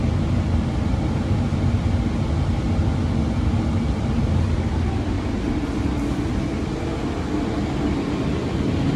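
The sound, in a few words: passing train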